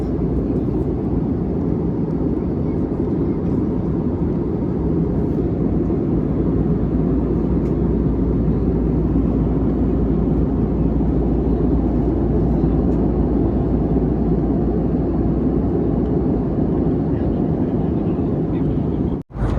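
Inside an airplane cabin in flight from Hyderabad to Goa, a loud constant low engine roar and rushing air drone fills the space, with voices murmuring beneath it.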